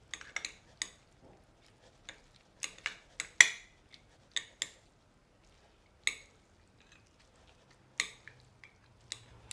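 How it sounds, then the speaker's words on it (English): Noodles being tossed with sauce in a bowl for rice cooker chicken char siu noodles: scattered close clinks of utensils against the dish mixed with soft wet squishes, in irregular bursts with no talking. "Mix it up a little bit."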